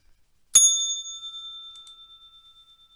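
A single bright bell strike marks the trading session. It rings out once and its clear tone fades slowly over a few seconds, with no talk.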